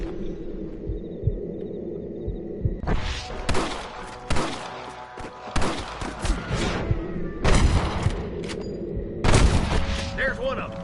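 Gunfire from a Red Dead Redemption firefight aimed at snipers, with bursts of shots and booming reports over game music and ambience, loud and close, and a voice talking at points.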